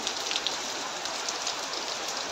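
Heavy rain pouring with water dripping down, a dense steady hiss of drops hitting surfaces close by, continuous and without voices.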